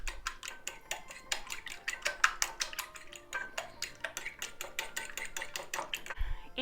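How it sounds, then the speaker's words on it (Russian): A metal fork beats eggs in a bowl, a rapid steady clatter of light clinking strokes, close and continuous, ending with a soft thump. "Яйца я разболтаю вилочкой."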